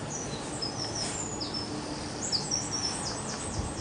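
Crows cawing repeatedly with scattered bird calls beside a canal in Leeds in May, moderately near, over a steady background hiss without talk.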